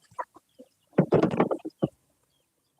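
Chickens cluck in short, scattered bursts close by, with a brief flurry of overlapping clucks in the middle and quiet gaps between.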